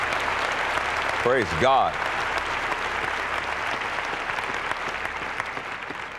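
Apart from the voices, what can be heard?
congregation applauding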